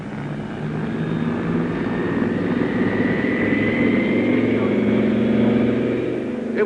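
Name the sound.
airplane engine in flight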